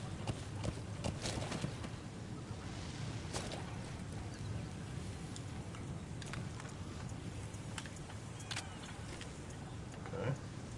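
Horse hooves clip-clopping in the video game Metal Gear Solid 5: The Phantom Pain, a steady run of soft hoofbeats under a low ambient rumble, with no talk.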